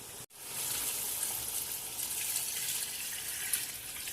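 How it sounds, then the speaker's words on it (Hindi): Water poured into a pot of tomatoes being fried for chicken pulao, a steady rushing, splashing pour that starts abruptly and runs loud and continuous at close range. "ये देखें जी, मैंने इसमें पानी डाल दिया है।"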